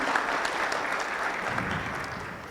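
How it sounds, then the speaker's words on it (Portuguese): Steady applause from a seated audience at a business and economics event, honoring the organizing companies; dense, even clapping fills the space without pause, with no voices standing out. "primeiro, uma salva de palmas para elas, porque elas merecem"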